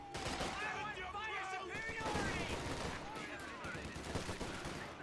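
MG42 machine gun bursts firing on an infantry squad in Company of Heroes 2, rapid rattling fire amid battle noise, mixed with voices in the background.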